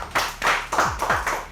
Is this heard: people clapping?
yes